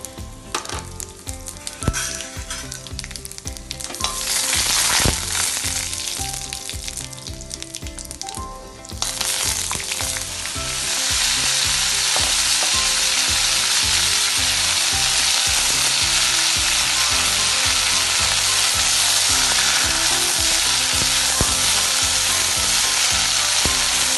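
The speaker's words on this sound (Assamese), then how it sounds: "দুখিলা মাহপাত দিছোঁ আৰু শুকান জলকীয়া পাঁচফোৰণ দিছোঁ" Bay leaves, dried chilies and panch phoron whole spices sizzle loudly in about four spoonfuls of hot oil, a steady dense crackle that grows fuller after a few seconds and keeps going with no one talking.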